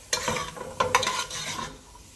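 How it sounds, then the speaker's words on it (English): Garlic, scallion, thyme and carrots sear in a hot pot, giving a brief sizzle with a few scraping stirs up close and no voices. "I wanna sear this off. Sear it off nice."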